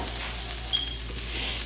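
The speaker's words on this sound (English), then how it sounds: "Make sure it's sizzling like this." Onions, green pepper and garlic sizzle in a hot skillet for Jamaican cooking, a steady close frying hiss with light stirring and no talk.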